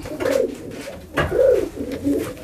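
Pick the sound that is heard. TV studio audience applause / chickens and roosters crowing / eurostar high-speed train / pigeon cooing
pigeon cooing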